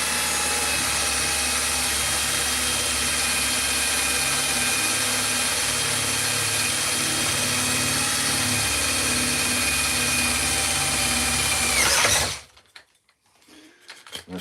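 An electric drill runs into wood for carving with a sustained, steady whir for about twelve seconds before stopping abruptly, followed by faint handling noise.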